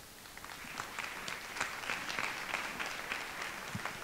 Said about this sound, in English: I want another round of applause for our keynote speaker.